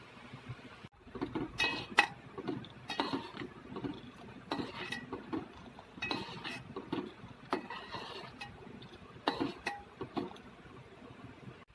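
A spoon stirs boiling milk in a metal pot, scraping and clinking against the sides in irregular bursts over a low bubbling bed of sound, with no one speaking.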